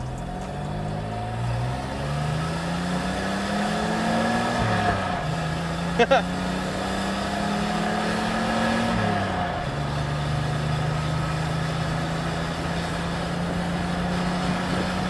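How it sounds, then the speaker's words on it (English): A turbocharged 1963 Chevrolet Corvair Monza Spyder engine revs up steadily through several gears, pitch climbing and dropping with each shift, heard from inside the vehicle with a brief click midway. "Hear the turbo."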